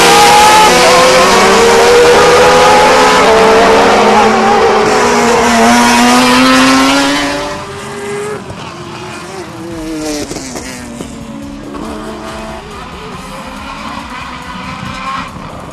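Rally race cars battling nose to tail at night at Bushy Park, Barbados, with loud screaming engines revving and shifting up close, then fading to a farther drone with a commentator talking over it.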